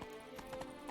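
Roach the horse runs in The Witcher 3, its hooves a faint, steady clip-clop beating at a gallop over a low background bed.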